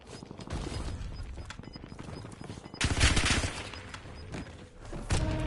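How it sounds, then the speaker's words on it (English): Gunfire rattles through a battle royale video game, a steady patter of shots swelling into louder, heavier bursts near the middle and again at the end. "Taking effective fire!"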